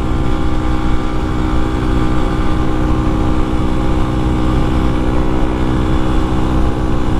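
A Honda Grom motorcycle with an aftermarket pipe, carrying a heavy rider uphill at full throttle near 60 mph, drones with a loud, steady, strained engine note under rushing wind, with no pause or shift.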